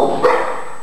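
A small male terrier with white and brown patches gives a quick yelping bark, close and loud, alongside a voice.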